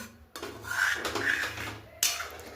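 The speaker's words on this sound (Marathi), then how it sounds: "10 मिनटं तुम्हाला असंच हलवत हे गरम करायचे" A spoon scrapes and clinks steadily against a pan of milk heated with dry fruit and cardamom for kulfi, with two sharper metallic knocks standing out near and clear, and no talking.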